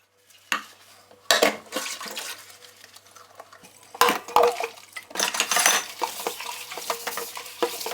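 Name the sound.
washing dishes in the kitchen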